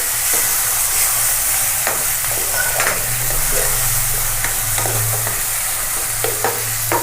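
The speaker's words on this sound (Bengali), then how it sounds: "টমেটোটাও দিয়ে ভালো করে একটু নেড়ে নেব" Tomato stirred into spices frying in oil over a lowered gas flame for a Bengali katla fish curry, with steady close sizzling and repeated scraping stirs, no voices.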